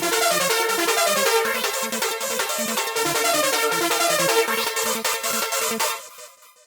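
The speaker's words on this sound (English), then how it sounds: "If you put all of the synths together, it kind of sounds like this." Several layered synths recreating a song in FL Studio play a busy, bright pattern together over a pulsing low bass line, steady and loud before cutting off and fading near the end.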